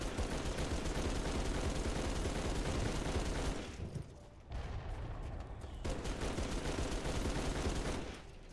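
A modded spinning-barrel gun in the video game Halo 3 fires in long, continuous rapid streams, loud and close, with a short break midway before the sustained barrage resumes and then cuts off.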